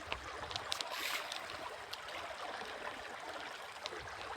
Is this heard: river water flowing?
yes